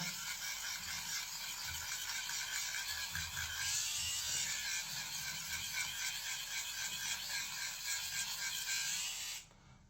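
A Flawlbss electric shaver trimmer runs close up with a steady, buzzy mechanical hum and a fine rattling texture, holding evenly for about nine seconds before it cuts off, with no talking.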